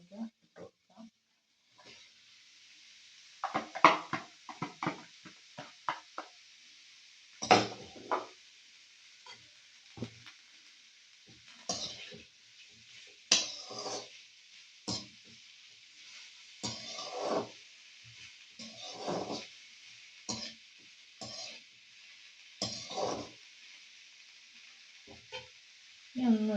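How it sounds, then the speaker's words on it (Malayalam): Chopped ivy gourd (kovakka) tossed into a hot pan for a Kerala-style mezhukkupuratti, sizzling steadily beneath repeated scraping and clattering stirs, with some intermittent knocks against the pan throughout. "ഇതിലേക്ക് നമ്മൾ അരിഞ്ഞു വെച്ചിരിക്കുന്ന കോവയ്ക്ക ഇട്ട് കൊടുക്കാം."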